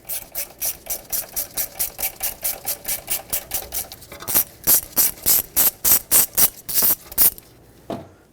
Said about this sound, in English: there's a 10mm headed bolt here that holds this on. Break it free and remove it.